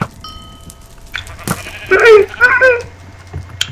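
Sheep bleat in a video game, a few short, wavering cries following a quiet stretch with a couple of soft clicks.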